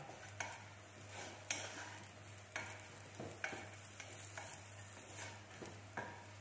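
Pancit palabok sauce being mixed in a pan with a pinch of garlic powder, with regular scraping stirs that repeat about once a second over a faint sizzle.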